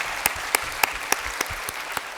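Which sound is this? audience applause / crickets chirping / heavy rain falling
audience applause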